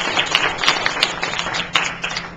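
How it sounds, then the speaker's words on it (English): Audience applause at a charity award dinner, a dense patter of many hands clapping steadily and fairly close, with no talk over it. "you all need to give yourself a big round of applause for it"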